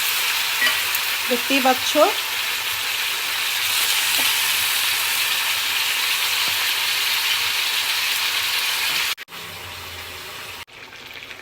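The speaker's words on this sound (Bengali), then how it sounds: "এর ভিতরে সব একবারে কষিয়ে নেব মাংসটা" Meat being sautéed in a pan, with a steady sizzle and fry throughout and a few stirring scrapes near the start. A brief spoken line comes early, and the frying noise drops out twice toward the end.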